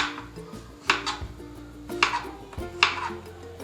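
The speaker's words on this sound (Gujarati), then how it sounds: "હવે આપણે તેને નાના નાના ટુકડામાં કટ કરી નાખશું." Knife chopping aloe vera leaf into small pieces on a board, a few sharp close cutting knocks spaced irregularly amid soft handling noise, no talk.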